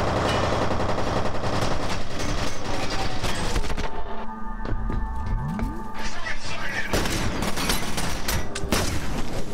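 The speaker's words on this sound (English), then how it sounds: "he got me with the shotgun" Shotgun blasts and other gunfire from the shooter game F.E.A.R. crash out loudly and densely throughout, with a brief lull midway, under a person's talk.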